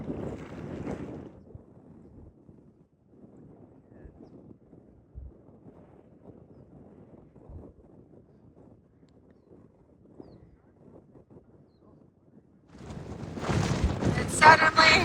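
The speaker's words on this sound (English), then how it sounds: "It suddenly got very windy again." Wind gusts buffet the microphone on an open Wyoming trail on a hot afternoon; after a long near-quiet stretch, a loud, rough broadband roar bursts in over the last two seconds.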